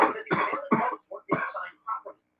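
A person fakes a series of short, forced coughs up close, about six quick bursts in an uneven rhythm, with no other talk.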